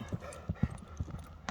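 A large horse's hooves clip-clop on the ground in a brief run of uneven steps, close by and fairly faint, with faint murmuring voices in the background.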